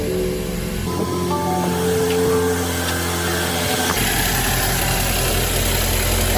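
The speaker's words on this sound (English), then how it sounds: "now we're gonna go ahead and start the car" A 2016 BMW 328i F30 with the N26 engine and a new serpentine belt and tensioner, heard close up as a steady mechanical engine hum with a whining belt tone and faint tonal chirps, settling into an even idle.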